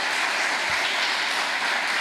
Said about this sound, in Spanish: ¿Qué tal si le damos un aplauso allí para seguir despertándonos?